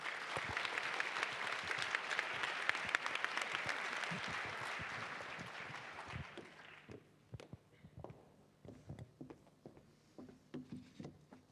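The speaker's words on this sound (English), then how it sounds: "Another round of applause." An audience at an advance care planning event applauds a speaker, with dense, loud clapping for about six seconds that thins into scattered claps and fades.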